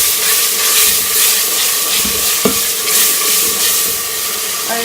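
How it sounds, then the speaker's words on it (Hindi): Tomato paste and green chili paste going into a hot pan of frying spices for a liver (kalaji) dish, a steady close sizzle with stirring and one brief clink near the middle. "ये टमाटर का पेस्ट हम इसके अंदर डाल देंगे, ये हरी मिर्चों का पेस्ट,"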